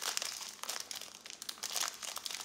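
A foil packet taken from a box is carefully opened, producing steady close crinkling and crumpling of foil with small crunchy bursts, quiet and without voices.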